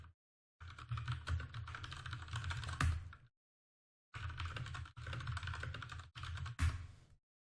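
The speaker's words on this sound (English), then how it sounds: "Maybe I can find it by typing the keywords into my chat bar." Rapid typing on a computer keyboard, close and clear, in two long bursts of dense clicking separated by a pause, with no talk.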